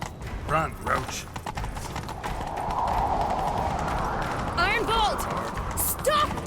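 Roach, Geralt's horse in The Witcher III, gallops in a fast, steady clip-clop of hooves on the ground, with brief voices calling out over the run.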